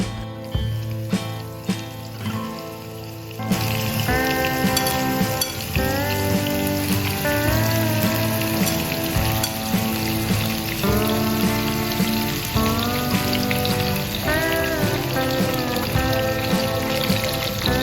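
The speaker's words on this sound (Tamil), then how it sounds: "ஒரு லோ ஃப்ளேமில் அடுப்பை வச்சுட்டு கொஞ்சமாக பேனில் ஒயில் சேர்த்துட்டு அதில் தான் வந்து ஃப்ரை பண்ணி எடுக்க போகிறோம்" Fish shallow-fries in a little oil over a low flame, a dense, constant sizzle that swells after a quieter opening and keeps a fine crackling texture, with occasional soft knocks, no voices.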